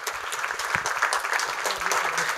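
An audience applauds a play's cast, a steady wash of clapping that holds for a couple of seconds, with faint voices mixed in beneath.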